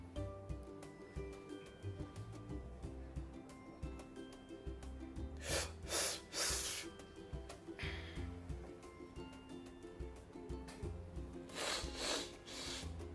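During extra virgin olive oil tasting, two or three sharp hissing intakes of air are drawn in through the front teeth. They stand out above a low, rumbling background.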